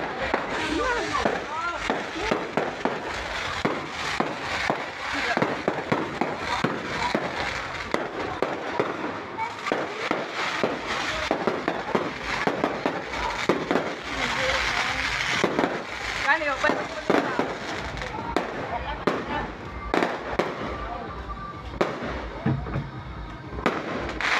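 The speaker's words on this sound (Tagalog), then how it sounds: "Fireworks!" Fireworks crackle and pop continuously, dense bursts overlapping at a steady, noisy pace, with voices faintly audible beneath.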